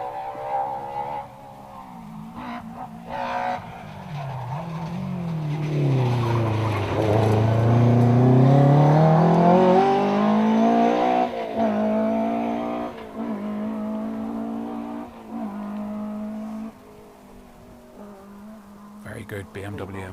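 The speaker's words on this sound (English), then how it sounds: "Good BMW M3. Yeah, sounds great." BMW M3 rally car on a stage of the Circuit of Ireland Rally, passing close by with a loud, rising engine note that peaks mid-pass, then drops through gear changes and fades, with commentators talking over it.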